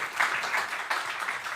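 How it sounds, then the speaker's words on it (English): A live debate audience in Dubai gives a round of applause, a brief, dense burst of many hands clapping at moderate distance, with no talking over it. "a round of applause for Leopold"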